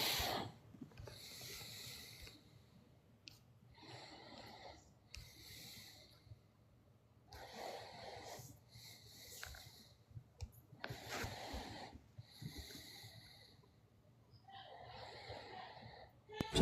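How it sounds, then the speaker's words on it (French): Someone sleeping in a room snores with irregular breathy snorts and rasping inhales spaced a few seconds apart, faint and close, while low voices murmur in the background. "Il y en a un qui ronfle."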